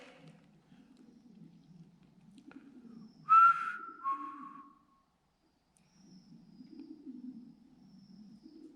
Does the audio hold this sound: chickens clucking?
no